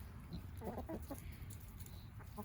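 A rooster and hens on a home hatchery farm cluck softly in a short run of close, low calls over a faint background.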